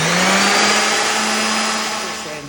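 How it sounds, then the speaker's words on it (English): A loud, steady motorized whine with a sustained hum from a power sander running continuously on a wooden picnic table, easing off slightly at the end. "We later sanded the picnic table prior to painting it."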